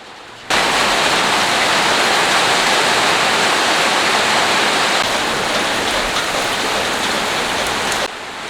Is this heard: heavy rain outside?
yes